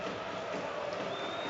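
A football stadium crowd at a Europa League qualifier between Hibernian and Midtjylland cheers, a dense roar filling the ground, steady and fairly distant.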